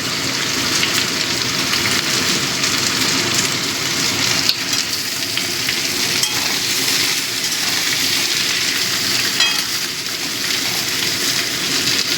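Onions sizzle in a hot pan for a potato curry with black cumin and green chillies, a steady, dense frying hiss that runs unbroken and fairly loud throughout, with no talking.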